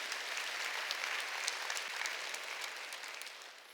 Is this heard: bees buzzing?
no